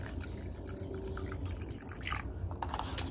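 Paint medium and water are mixed for a faux marble table top, giving soft liquid sloshing and dripping sounds with a few brighter splashes near the end, close and steady, with no talk.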